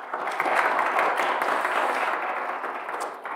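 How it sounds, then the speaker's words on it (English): A room full of attendees at a BelfastJS tech meetup claps for the speakers, a dense, even wash of many hands that stays loud and sustained throughout. "A huge round of applause for our amazing speakers."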